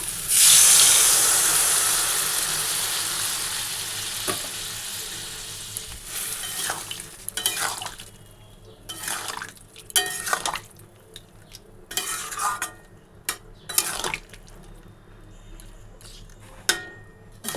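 Water poured into a pan of paneer fried with cumin powder gives a loud burst of hissing steam, then fades into gentler sizzling with several sharp scraping stirs of a spatula against the pan, close by.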